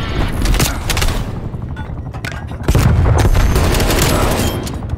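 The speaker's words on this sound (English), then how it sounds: "Hostile sentry turret" A sentry turret fires in Call of Duty Cold War, a loud, dense stream of rapid gunfire with booming impacts that swells louder midway and continues without pause.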